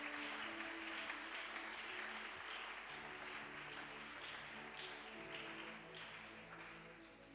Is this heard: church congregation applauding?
yes